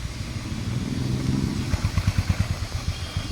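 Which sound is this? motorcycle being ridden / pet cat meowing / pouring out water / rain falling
motorcycle being ridden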